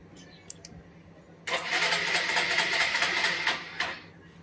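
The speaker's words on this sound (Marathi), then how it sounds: "गाडीची न्यूट्रल लाईट दाखवते पण गाडी चालू होत नाही" A motorcycle with rat-chewed wiring cranks without starting: a few faint clicks, then about two and a half seconds of loud, close, whirring starter cranking that stops abruptly.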